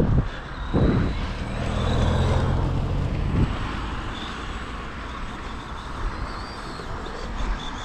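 A car passes on a wet, rainy road, its engine and tyre noise swelling to a broad rush and then fading slowly, with no talk over it.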